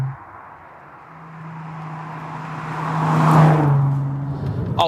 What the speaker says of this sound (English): This one has more of that traditional V6 howl rather than a straight 6 rasp.